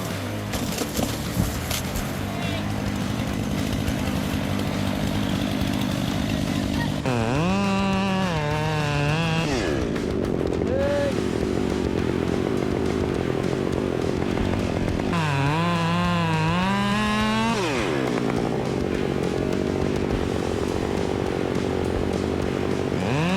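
A big chainsaw with a long metal guide bar and sharp-toothed chain idles with a steady rattling drone, then revs up twice in loud, rising bursts before settling back to idle, close and alone.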